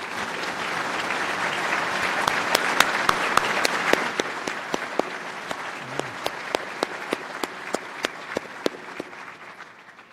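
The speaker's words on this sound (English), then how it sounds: "so we can give you a round of applause" Audience applause for newly elected members at a National Academy of Engineering annual meeting, a dense sustained wash of clapping lasting about ten seconds with sharp individual claps standing out, tapering slightly at the end.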